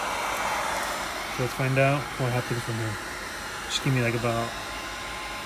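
A heat gun blows a steady, loud hiss of hot air over a custom car fender piece during a G35 to G37 front end conversion, while someone talks over it in two short stretches.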